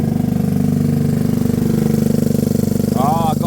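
A motorcycle engine idles on choke after a cold start, a steady, close, even low throb with a regular pulsing beat and a voice briefly heard near the end.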